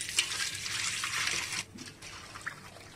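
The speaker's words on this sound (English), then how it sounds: "Now we need to pour the wine into the strainer to filter all the rice content." Homemade rice wine is poured into a strainer, giving a close splashing, trickling pour that runs steadily for about a second and a half, then fades into softer dribbles and drips.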